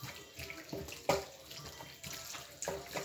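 Tap water runs over kilishi, a spicy dried meat, to rinse off its pepper coating: a steady faucet flow with splashing surges as the meat is handled under the stream, close and with no voices.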